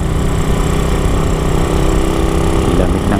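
A Raider 150 motorcycle engine bored to 172cc idles steadily during its break-in period, a continuous close, even hum with faint harmonics and no voices, heard outdoors in cool air.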